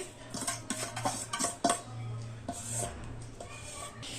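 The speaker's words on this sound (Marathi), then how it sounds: "आणि आता आपण हे मिक्स करूया छान." A spoon scrapes and clinks around a metal pan while grated coconut and roasted poppy seeds are mixed, giving irregular close knocks and stirring scrapes over a low steady hum.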